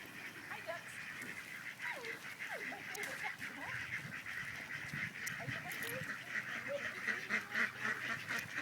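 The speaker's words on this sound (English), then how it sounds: "There's Mommy's goose." Geese honk over and over in a busy outdoor chorus, with faint voices murmuring underneath.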